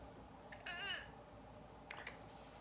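A cat gives two short, faint meows, the first drawn out and the second briefer, over a quiet background.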